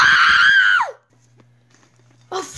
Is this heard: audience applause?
no